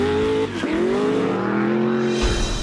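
Off-road race vehicles in a 300-mile desert race, engines roaring and shifting pitch as they drive past at speed, loud and close with a brief tire scrub, no talking.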